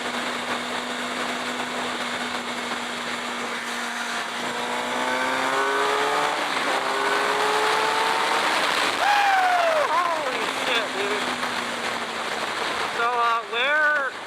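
A 2017 Suzuki GSX-R 750 sport bike cruising at speed, its engine a loud steady high-pitched drone with wind rush that climbs and shifts pitch toward the end, heard from the rider's position.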